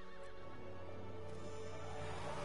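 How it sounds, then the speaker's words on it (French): A horse neighs loudly in Resident Evil Village, a long shrill whinny that sustains close and prominent over a dense ambient backdrop with no speech. "Le cheval se mit en colère et appela les autres monstres."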